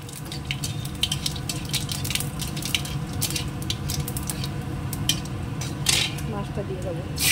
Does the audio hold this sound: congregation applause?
no